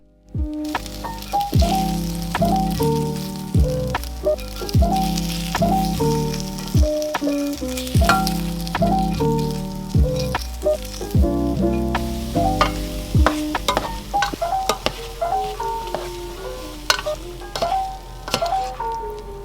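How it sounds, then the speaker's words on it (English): Onion and garlic fry in a pot, a soft continuous sizzle with occasional stirring under background music. "I added them to the pot after frying the onion and garlic for a while"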